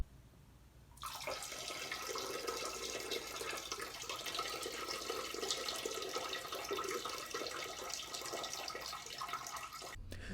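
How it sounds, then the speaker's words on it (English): Steady stream of urine splashing into toilet bowl water, a continuous loud trickle lasting about nine seconds after a quiet start, then cutting off abruptly. "straight urine hitting water"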